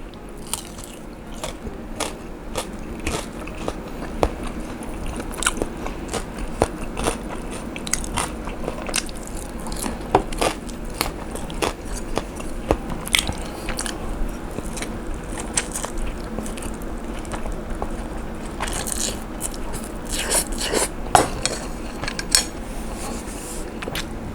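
Crispy pork dipped in roasted chili paste with shrimp fat is bitten and chewed close to the mic. Loud crunches and bites repeat steadily throughout, with no talking.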